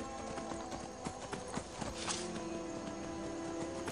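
A horse's hooves clip-clop at a steady walking pace in the video game Skyrim, faint and even over low background sound.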